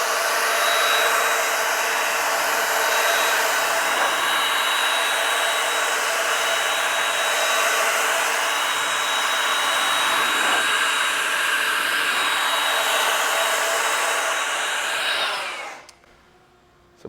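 A powerful air blower drying a freshly rinsed car, roaring loud and steady for about fifteen seconds before cutting off abruptly.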